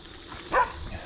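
A single short bark from a herding dog, one of the heelers or Australian Shepherds chasing a cyclist, sounds out clearly at mid distance over steady background noise.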